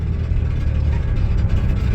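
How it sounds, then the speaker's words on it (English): A car's loose exhaust drags on the road while driving, giving a loud, continuous low rumble with a gritty rattling texture, close and steady throughout. "That's my exhaust dragging on the ground."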